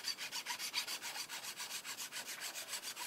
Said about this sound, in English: 10 minutes into filing on this bridge